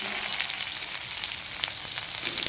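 Onions frying in oil with a few fenugreek seeds in a pan: a continuous, close sizzling hiss with scattered crackles and pops.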